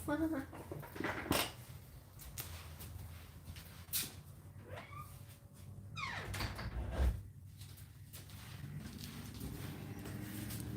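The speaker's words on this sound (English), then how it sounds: "I'm going to close the door" A door in a home is shut, giving a couple of solid knocks and a muffled thud over low room noise, with a faint voice in the background.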